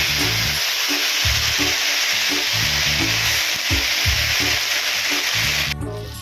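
Garlic and brinjal frying in hot oil, a loud continuous sizzle broken by regular scraping stirs of the pan, close up and with no talking.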